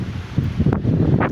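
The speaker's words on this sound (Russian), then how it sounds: "Себе не представляете, какой ветер." Strong gusty wind ahead of an approaching hurricane in Russia buffets the microphone and rustles trees. The roar is loud and uneven for a short moment.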